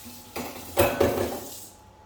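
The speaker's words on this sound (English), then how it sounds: "we'll get rid of this chopping board. Get rid of this knife." A kitchen chopping board and knife are set aside during home dinner cooking, giving two or three close, short clatters and clinks of utensils against hard surfaces, with no talking.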